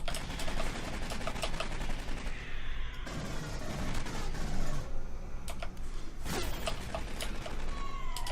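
Automated sentry turrets in Aliens: Colonial Marines rattle off dense, continuous bursts of gunfire, a busy layered barrage of rapid shots that carries on without letup.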